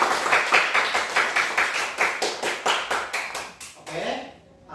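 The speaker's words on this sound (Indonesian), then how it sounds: "Tepuk tangan untuk diri kalian" Students in a classroom clap in a steady rhythmic pattern, a dozen or so sharp, even beats in unison, close and fairly loud, before stopping abruptly into quiet.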